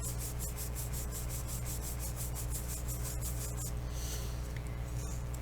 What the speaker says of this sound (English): take the embossing buddy, and I'm just going to rub it on the cardstock